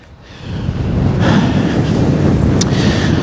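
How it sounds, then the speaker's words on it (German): Strong wind blowing at a biogas plant in a windy corridor with wind turbines, a loud, steady roaring rush buffeting the microphone close up, with no talk. "Damit ihr seht, was für ein Wind ist."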